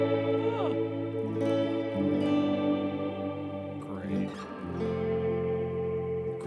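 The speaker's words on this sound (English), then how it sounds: "It's a reverb pedal." A sustained, washy guitar tone through a reverb pedal, smeared with long reverb tails, notes blurring into a shimmering ambient drone that never fully decays.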